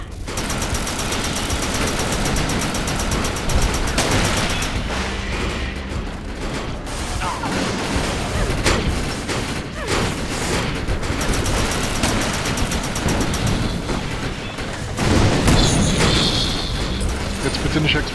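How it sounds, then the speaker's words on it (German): Grenade blasts and gunfire in the shooter game Defiance, a dense continuous barrage of rapid shots and heavy booms, loud and close for the whole stretch, with a voice talking over it. "Da schmeißt einer tatsächlich Granaten, wo ich gerade gelaufen bin."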